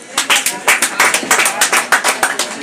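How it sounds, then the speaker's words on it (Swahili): A small group of people clap together in sharp, close, rhythmic bursts at a lively event, the claps loud and evenly spaced across a couple of seconds. "Tumpigie makofi mazuri."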